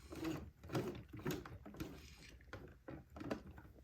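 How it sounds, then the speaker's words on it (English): Sewing machine zigzag stitching near a buttonhole on a day gown, with soft, rhythmic mechanical thumps in a steady repeating pattern, fairly quiet and close, with no voice over it. "So I'm going to be zigzagging a little bit of what I zigzagged before."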